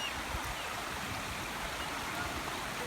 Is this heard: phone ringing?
no